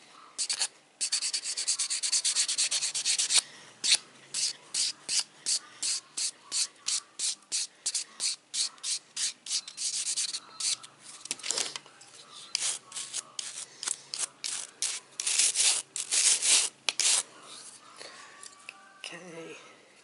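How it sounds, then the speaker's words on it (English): Rapid rhythmic rasping strokes of a 180/240 nail buffer buffing acrylic nails with plum and glitter overlay, close and steady in repeated bursts, with a few short pauses. "I'm going to give it a really good buff now with my buffing side of my 180-240 buffer"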